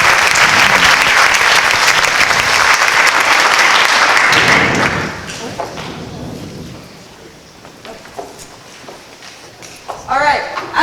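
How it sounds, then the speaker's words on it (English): Loud audience applause closing a mayoral and city council candidate debate, a dense roar of clapping for about five seconds that drops off sharply, leaving scattered claps, murmurs and room noise. "Audience, you may now applause."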